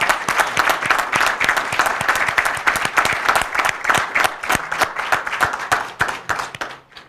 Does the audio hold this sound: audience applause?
yes